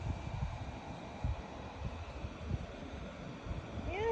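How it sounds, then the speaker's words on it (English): Wind blows steadily outdoors, a low rumbling gust noise that swells slightly toward the end, with no voices. "It's windy out here."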